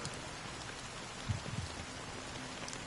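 Fine drizzling rain in Honkai: Star Rail, a soft steady patter of drops that holds across the whole stretch, with a couple of slightly heavier splashes standing out briefly near the middle.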